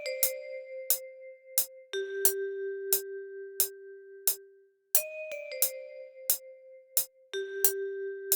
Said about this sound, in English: So that's kind of a bell sound.